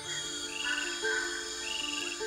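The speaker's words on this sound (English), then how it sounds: "the chorus from the other frogs is deafening." A dense chorus of many calling tiny frogs, with overlapping trills and whistles layered into a continuous wall of sound, steady and fairly faint throughout with no voices.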